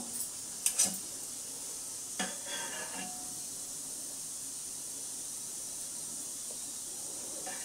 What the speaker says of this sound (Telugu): తాలింపు రెడీ చేసుకుందాం.